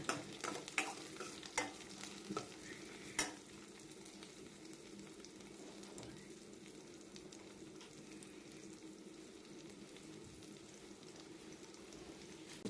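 Ginger and garlic sauté in oil for a horse gram dal, opening with a burst of spoon clatter and stirring, then settling into a soft, steady sizzle with no speech.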